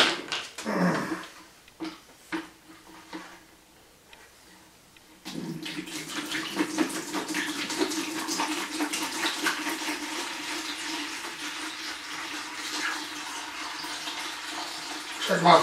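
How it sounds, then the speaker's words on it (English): Water pours into a container on a scale during a popsicle-stick crane boom test, a steady rushing splash that runs for about ten seconds after a few clicks and handling noises, with a voice speaking briefly at the start. "Put water in it."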